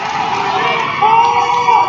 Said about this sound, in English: Crowd's getting on their feet, getting excited.